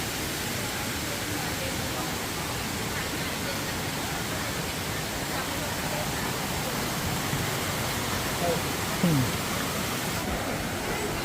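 Waterfall at a Nakhon Nayok park with spots where people play in the water, a steady broadband rush of falling water continuous throughout at moderate level, with faint voices in the background.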